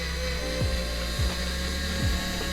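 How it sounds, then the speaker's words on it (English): A power tool whirs steadily near the tail light of a BMW F30 while loosening an 8mm bolt, with a few short dips in pitch as the load changes. "You will need to loosen this 8mm bolt."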